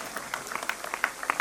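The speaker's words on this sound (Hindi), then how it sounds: "जोरदार तालियां बज दीजिए यार कमाल कमाल" Faint, distant applause from an audience at an award ceremony in Bharat Mandapam, a brief spatter of light claps heard through a room microphone.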